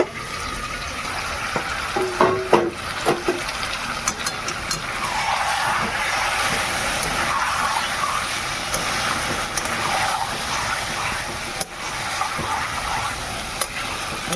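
Chicken with spices being stir-fried in a pan, its steady sizzle broken by scraping, clinking spatula strokes near the start, with no one speaking.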